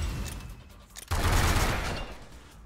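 Gunfire from the Fuzi gun in Synthetik 2: after a brief quiet a loud, dense burst of shots erupts and rattles on for about a second before trailing off, with no talking over it.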